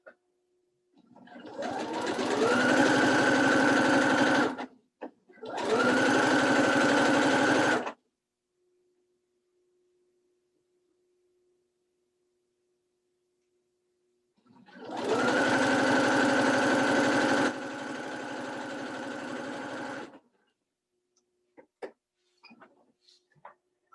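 A sewing machine stitches a quilt seam for a Christmas throw pillow, running in three steady motorized bursts: two close together, then a longer one after a quiet pause, with faint handling clicks at the end.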